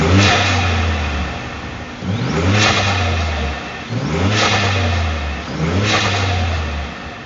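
Ford Ranger Raptor engine fitted with a carbon fiber dual air intake revs hard four times in a row, each rise and fall of the deep exhaust note loud and close, with no talking over it.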